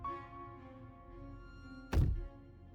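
A single heavy thump from movement on stairs in the game Slay the Princess, a short low thud standing out against a quiet, humming tonal backdrop.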